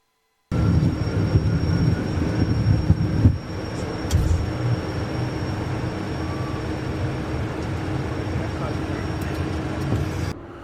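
Cessna CitationJet CJ jet engines during takeoff, a steady loud roaring rumble heard from inside the cockpit with a faint whine, constant throughout after a brief quiet start.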